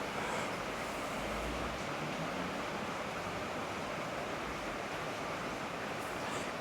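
Foamy water pours steadily down a small waterfall near a village, a continuous broadband rush that stays loud and even throughout with no voices.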